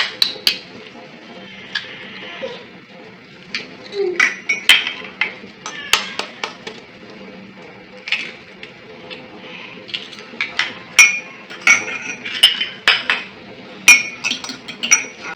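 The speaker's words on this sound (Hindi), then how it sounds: "ऑमलेट सैंडविच बनाने के लिए सबसे पहले हम अंडों को एक बाउल में डालेंगे।" Eggs clink and tap against a bowl while being cracked in for an omelette sandwich, a run of sharp, close clinks scattered throughout with faint kitchen clatter between.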